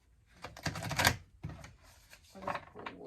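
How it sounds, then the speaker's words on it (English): A deck of oracle cards being shuffled by hand gives quick, close bursts of papery riffling and clicking in short uneven clusters. "I'm gonna shuffle, and then I'll pull a card."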